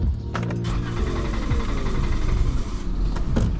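A Dodge Caravan engine with a suspected failed fuel pump cranks and catches after brake cleaner is sprayed into the intake, settling into a steady, loud running rumble close by.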